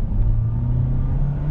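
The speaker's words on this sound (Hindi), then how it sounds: "ये जो विसल आप सुनते हो ये मज़ा आ जाता है।" The turbo petrol engine of a 2020 Nissan Kicks pulls as the car accelerates, giving a loud, close, steady low rumble with a faint whistle riding on top. No one speaks.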